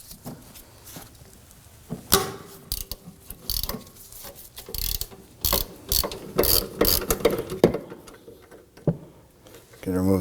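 Ratchet working a rear brake caliper bolt loose on a 2005-2009 Subaru Legacy, steady close clicking runs broken by short pauses, with a voice talking now and then over the mechanical sound.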